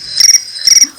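Phone alarm ringtone imitating cricket chirps: two short bursts of rapid, high trilling pulses, close and loud, with nothing else audible.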